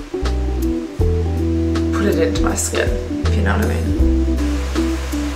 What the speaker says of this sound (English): Oh, it's pouring.